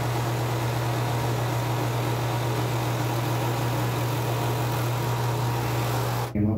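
A Singer Ultralock 14SH754 overlock machine sews Lycra beach fabric with a loud, continuous whirring hum that runs steadily and then cuts off abruptly at the end.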